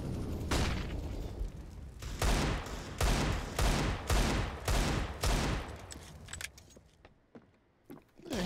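Desert Eagle pistol fire in a Counter-Strike esports match, a series of loud, evenly spaced sharp shots, about a dozen in all, that thin out toward the end with game noise between.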